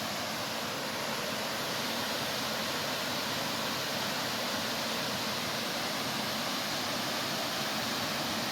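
Laurel Fork Falls, a waterfall on a forest hiking trail, roars as a steady, dense broadband rush heard from a distance, unbroken and even throughout with no voices.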